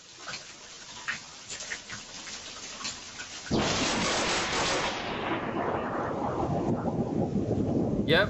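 Thunder from a nearby lightning strike, likely on a tree, a sudden loud crack and rumble bursting over steady rain, then slowly fading back into the rain hiss.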